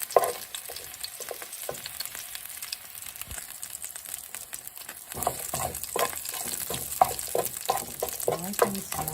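Garlic frying in a pan while being stirred, a continuous sizzle broken by repeated scraping and stirring strokes, close and moderately loud.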